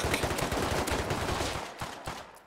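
Rapid bursts of automatic fire from a light machine gun in the survival game Rust, loud and dense at first, then tapering into a few spaced shots as the volume drops.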